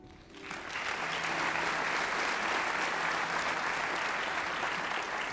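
Audience applause at a school awards ceremony honoring students, a dense, steady clapping from a large crowd that rises within the first half second and holds loud and even to the end.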